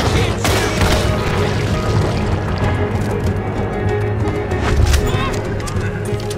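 Chaotic Old West town shootout in Red Dead Redemption 2: dense, continuous gunfire and booming blasts fill the scene, with a louder burst near the end, while voices shout over the din.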